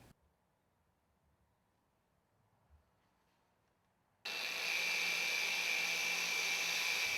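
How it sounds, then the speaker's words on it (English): An angle grinder fitted with a cupped wire brush cleans a metal flange face, starting abruptly after several seconds of near silence and then holding a loud, steady whirring scrub with a high whine. "Watch as the flange face is completely cleaned in a fraction of the time it takes compared to the traditional manual method."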